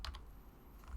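A computer keyboard gives a couple of quick, faint keystrokes, close but quiet, with near silence between them.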